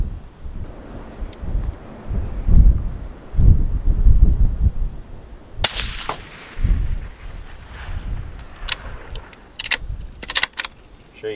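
Ruger American Gen II Predator .223 rifle firing Hornady Match ammunition outdoors, a sharp close crack standing out against heavy gusting wind noise, with a few fainter impact-like snaps following.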